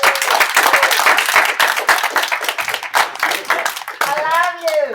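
An audience fills a classroom with dense clapping after a talk on teaching science, then the applause thins and a single voice takes over at the end.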